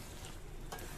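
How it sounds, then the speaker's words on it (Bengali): A green chili pickle being stirred in a pan gives a steady, soft sizzle and scraping stir, moderately loud and continuous throughout, with a brief brighter burst near the end; no one talks. "ভালোভাবে নেড়ে চেড়ে সবকিছু মিশিয়ে দিচ্ছি।"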